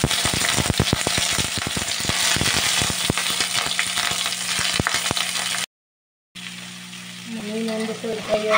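Fish fries in oil in a new iron pan with a loud, crackling sizzle and sharp spattering pops. The sound cuts out briefly and then returns as a softer sizzle with a faint tonal hum.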